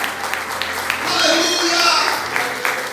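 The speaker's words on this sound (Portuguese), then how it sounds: "Aplaude e glorifica o Senhor." A church congregation applauds during worship, a steady wash of clapping with scattered sharper claps that swells in the middle, with voices mixed into the hall sound.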